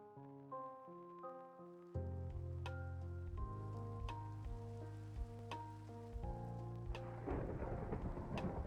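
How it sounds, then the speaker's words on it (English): A Minecraft thunderstorm with steady rain, repeated sharp thunder cracks and rumbles over sustained game music tones. "thunderstorm"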